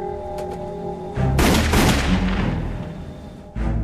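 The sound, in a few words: 44 caliber handgun gunshots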